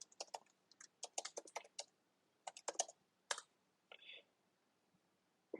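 Quiet, close clicking of keys on a computer keyboard as a password is typed, in quick irregular bursts separated by brief pauses, with a faint breathy sound partway through.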